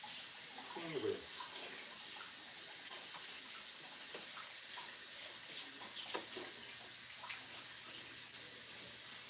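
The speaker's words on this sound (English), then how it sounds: "Cleaning the whisk" A whisk rinsed under a running kitchen tap, a steady wash of flowing water with occasional light clinks and splashes, a voice briefly audible near the start.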